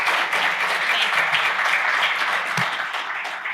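Applause for the panelists at an innovation conference session, a dense, even wash of audience clapping that holds steady and tapers slightly toward the end.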